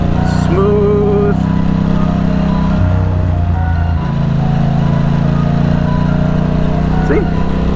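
Motorcycle riding the Vista Loop road in San Diego in too high a gear, its engine droning steadily and loudly throughout, with a slight dip in pitch midway and a brief voice near the end.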